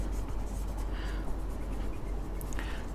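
Marker or chalk writing on a classroom board during an accounting lesson, a steady scratchy stroke sound that runs continuously, close up, with faint room noise underneath and no talk.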